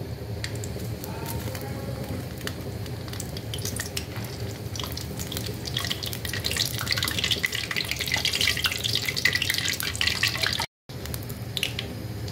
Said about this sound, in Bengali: তেল খুব ভালো করে গরম হয়েছে। এখন শুকনো মরিচ ভেজে নেব।